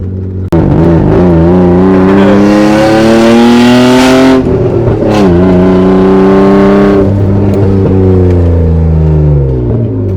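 A BMW E36's swapped engine starts abruptly on a nearly dead battery and runs loud and close, revving up strongly several times with rising and falling pitch, then dropping back toward idle.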